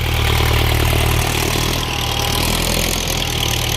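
A 1997 Ford 6640 tractor engine runs steadily in second gear with its original exhaust pipe, a loud, close, continuous diesel drone with a slight dip in load partway through.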